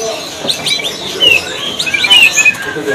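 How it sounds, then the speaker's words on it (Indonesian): Bimoli songbirds at a kiosk in the Pramuka bird market, Jakarta, giving repeated bright chirps and short whistled phrases, moderately close amid faint market background noise. "Nah untuk yang rajin bunyi nih, ini juga tersedia dari burung bimoli"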